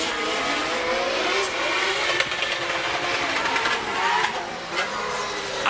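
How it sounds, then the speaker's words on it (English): Drift car engines rev hard and unwind at Mondello Park, a loud continuous roar with rising and falling pitch, the sound carrying steadily without any voices. "I need to hear the engine for a minute"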